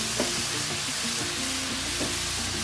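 Vegetables sizzle and crackle in a hot pan as they are stir-fried for chicken fried rice, a steady hiss with occasional scraping stirs, close and alone.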